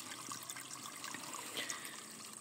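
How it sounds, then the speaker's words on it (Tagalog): Spring water from an old free-flowing natural source runs steadily in a soft, continuous trickle and gurgle, faint and close, with no voices. "Tingana ra gyud na pirmi ang tubig kakusog."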